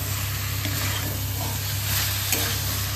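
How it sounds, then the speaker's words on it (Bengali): Food being stirred and sautéed in a frying pan, ahead of adding poppy seed paste, gives a steady close sizzle with soft scraping of the spatula throughout. "একটু ভালো করে কষিয়ে নিই,"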